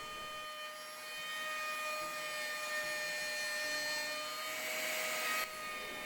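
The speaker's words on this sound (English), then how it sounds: "Let's load in a chamfer bit to our router table here." A router table fitted with a chamfer bit, cutting the edges of a wooden serving tray, gives a steady, high electric whine with a constant broadband rush that holds evenly throughout, with no speech.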